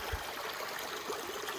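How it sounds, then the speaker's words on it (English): An ice-cold creek flows right beside a campsite in New Hampshire, a steady broadband rush of running water that holds even throughout, close and continuous with no voices. "there's a wonderful creek right next to my campsite. It's ice cold"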